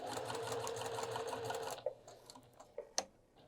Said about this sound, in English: we stitch right over those other stitches